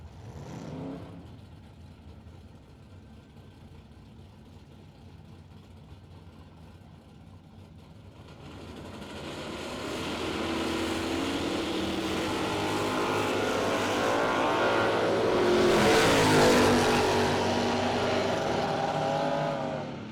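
Drag racing cars, one a Camaro, sit at the start line, a faint distant engine rumble growing into a loud sustained roar as they launch and race away, peaking before trailing off.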